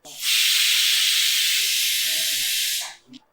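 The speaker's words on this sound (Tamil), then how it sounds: "இப்போ இந்த ஸ்டீம் வருது பாருங்கள்" Steam hisses loudly and steadily from a pressure cooker over a medium flame on a kitchen stove, a continuous near rush lasting almost the whole moment before cutting off, followed by faint clatter.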